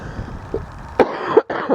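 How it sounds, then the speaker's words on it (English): A person who is unwell coughs a few times in short, harsh bursts close to the microphone, with a quiet background. "pardon the coughing"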